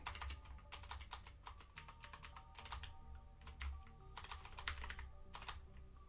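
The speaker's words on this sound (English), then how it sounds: "I'm just typing this in, bro." Rapid typing on a computer keyboard, close and steady with bursts of clustered keystrokes and brief pauses, in a quiet room with no talking.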